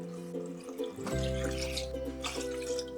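Water splashes and gurgles into a cooking pot of mushroom broth, a continuous pouring sound with a low steady hum running behind it.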